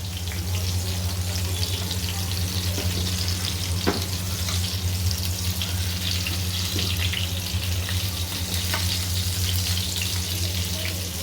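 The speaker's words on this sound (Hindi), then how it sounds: "और टमाटर को हम पलट देते हैं जिससे कि दोनों तरफ से सिक जाए।" Tomatoes, garlic and green chillies fry steadily in a pan, giving a continuous close sizzle with a low hum behind it and a few faint clinks or stirs.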